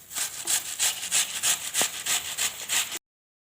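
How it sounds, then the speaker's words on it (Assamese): A knife scrapes the peel from giant taro (maan kochu) stalks being prepared for pickle, a close, rhythmic rasping of about ten even strokes back and forth, with no talking. "এয়া এনেকৈ মই সকলোখিনি এনেকৈ ৰুকি পেলাই লওঁ।"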